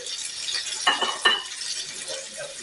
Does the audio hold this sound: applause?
no